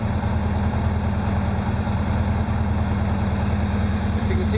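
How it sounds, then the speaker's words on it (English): A Porsche 914 engine idles steadily at close range, a low, even rumble with a regular pulsing beat that holds unchanged while the fuel mixture is adjusted, with no voices over it. "As you can see, the idle kind of smooths out when we hit a happy spot for the fuel mixture."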